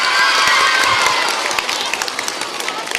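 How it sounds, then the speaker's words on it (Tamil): Applause for a maths teacher, a crowd clapping and cheering loudly, with scattered shouts and voices, fading slightly toward the end. "இதெல்லாம் இந்த மேத்ஸ் டீச்சருக்கான கைத்தட்டல் தான்"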